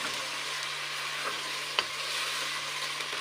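Potato and eggplant sabzi fries in a pan, a dense, even sizzle held close and steady, with a faint low hum underneath and a single soft clink midway.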